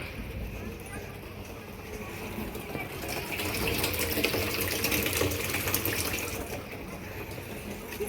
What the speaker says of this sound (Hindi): ड्रम दिखा दे, अगर ड्रम भरने लग रहा है पानी का।